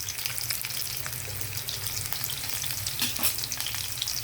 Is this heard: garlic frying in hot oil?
yes